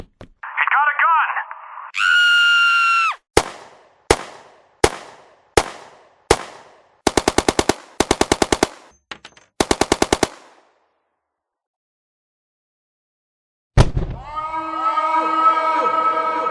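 A machine gun sound effect: several single loud shots, then three rapid bursts of automatic fire, a pause, and a final louder blast; brief synthetic tones and noise open the sequence.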